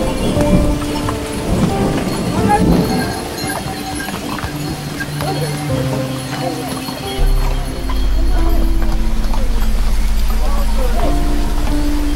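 Horses' hooves clip-clop along a rainy, cloud-covered mountain trail on the Kedarnath route, steady steps amid constant rain, with people talking over them and a heavier rumble setting in toward the end.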